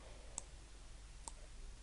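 A computer mouse clicks twice, quiet and sharp, while someone builds a flowchart in Edraw software. The two clicks are about a second apart against faint room noise.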